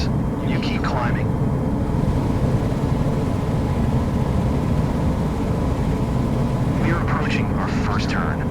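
A Cessna 172 engine drones steadily and loudly in flight in the simulator MSFS 2024, a constant broadband hum with brief radio-like voice bursts at start and end.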